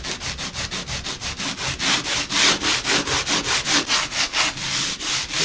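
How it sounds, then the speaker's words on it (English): Coarse sanding block rubbed back and forth over wood, about twenty even, rhythmic rasping strokes up close and loud, with no talking. "So I'm going to take one of these sanding blocks. I think this is pretty coarse."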